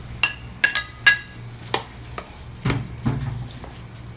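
Beef dropped into a pan with mashed tomatoes for a beefy shakshouka, then stirred: a few sharp clinks and scrapes of a utensil against the pan up close, followed by a soft sizzle and wet stirring.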